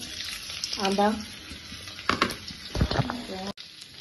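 Ginger and panch phoron hit hot oil for an Assamese vegetable curry, giving a steady close sizzle and frying crackle with brief stirring clatter, while a person speaks intermittently over the cooking.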